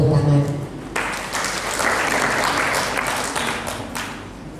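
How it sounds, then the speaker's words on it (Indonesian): An audience at a formal community stunting-prevention training event breaks into sustained applause, a dense wash of many hands clapping at once that holds steady for several seconds and then tapers. A voice is heard briefly just before the clapping starts. "Kita berikan tepuk tangan"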